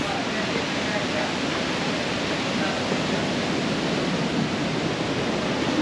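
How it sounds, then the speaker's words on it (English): Waterfall on a jungle trek in Chiang Mai, a loud, steady, broadband rush of falling water with no break in it across the whole stretch. "So basically we're getting to the waterfall now."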